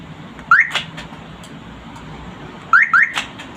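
A newly installed car alarm is tested, letting out short rising chirps in two bursts, one at the start and a double chirp near the end, loud and close against quiet background.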